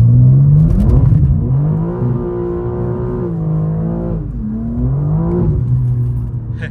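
A stage 2 tuned BMW M4 Competition G82 with traction control switched off accelerates hard; its loud, close engine note climbs and drops through repeated gear pulls with no talking over it.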